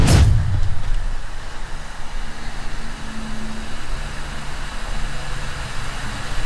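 A 1978 Chevrolet Corvette 25th Anniversary Edition pulls forward with a steady low engine drone and road rumble. A sharp knock opens it, then the hum holds constant and fairly loud.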